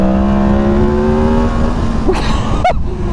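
A 2023 Yamaha MT-10 SP motorcycle accelerating hard, a loud, close engine whose pitch climbs steadily, then two sharp gearshift cracks, with no voices.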